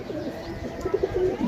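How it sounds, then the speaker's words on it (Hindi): A teddy pigeon coos softly nearby in a short burst of low, rolling murmurs, with a faint chirp layered over a quiet background. "माशाल्लाह अच्छा कबूतर है यार, टैडी कबूतर है बहुत अच्छा"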